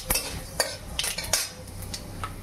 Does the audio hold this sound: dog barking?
no